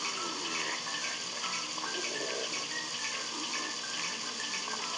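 Shower water runs in the Böse Nachbarn 2 video game, a steady, even hiss of spray that continues unbroken for the whole stretch with no voices over it.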